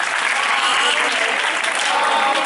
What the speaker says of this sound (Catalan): Un aplaudiment a Jaume I.